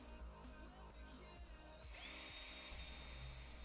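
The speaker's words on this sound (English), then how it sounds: "with your power drill, pre-drill holes through the spots on your template that you marked" A power drill whirs steadily and loudly, pre-drilling screw holes in wood, its motor pitch climbing as the bit bites in, running without pause.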